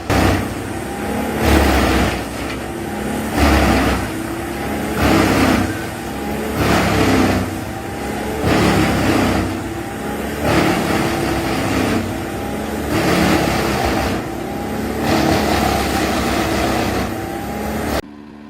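Bandit 21XP wood chipper running loud and close, its engine swelling and easing in regular surges about every two to three seconds.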